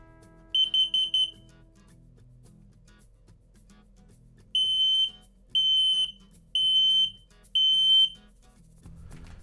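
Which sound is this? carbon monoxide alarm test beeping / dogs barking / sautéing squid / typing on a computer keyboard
carbon monoxide alarm test beeping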